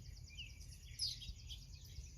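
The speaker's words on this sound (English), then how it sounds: "Listening to the birds." Faint, high bird chirps and twitters drift over a low background rumble, distant and soft.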